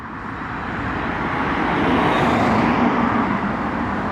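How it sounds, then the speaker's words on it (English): Cars passing on a road on a bright sunny day, a steady broadband roadway rush that swells gently as vehicles go by, no voices. "See those cars going by"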